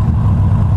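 A Harley-Davidson Iron 883 motorcycle with an aftermarket exhaust runs close by, a loud, deep, steady engine rumble over a very short stretch.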